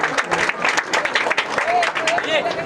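A crowd claps and cheers amid loud outdoor chatter at a village ploughing race, the bursts of applause mixed with shouting voices.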